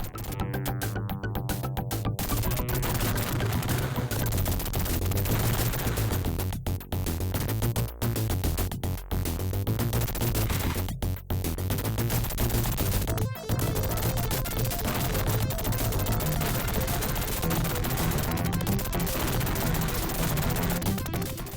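Dense, continuous gunfire and explosions from a shoot 'em up video game played through RetroArch on an Nvidia Shield TV, loud and unbroken with a pulsing music beat underneath for the whole stretch.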